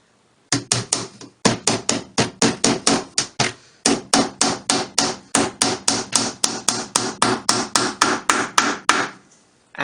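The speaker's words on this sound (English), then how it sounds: "The 1/4 inch thick plywood back of the cabinet is attached using 7/8 inch brass nails." Brass nails are hammered into a quarter-inch plywood cabinet back in a steady run of about thirty sharp, close, evenly paced hammer blows, broken by one short pause.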